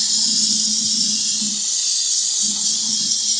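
Spray can spritzing penetrant onto a stuck bolt on a Triumph Spitfire exhaust manifold: two close, steady hissing bursts, the first about a second and a half long, then a brief pause before the second.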